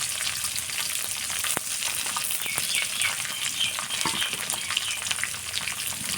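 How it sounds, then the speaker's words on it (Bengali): Chopped onion and garlic sizzle steadily in hot oil with dried tengra fish, a close, continuous frying crackle with occasional stirring clicks from a utensil. "সামান্য পেঁয়াজ কুচি, রসুন কুচি একসাথে দিয়ে ভালোভাবে ভেজে নেব।"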